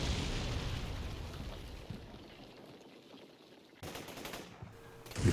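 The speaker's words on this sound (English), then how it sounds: "so we start to pound it with artillery" Artillery bombardment in the war game Combat Mission Black Sea pounds an enemy headquarters, with rolling explosions and bursts of gunfire that swell, fade, then strike again sharply near the end.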